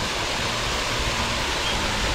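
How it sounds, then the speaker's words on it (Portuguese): A small waterfall cascade pours steadily into green water on a hot day, a continuous full, hissing rush of falling water with no break, close and fairly loud, with no voices over it. "Olha só que belezinha essa cascata."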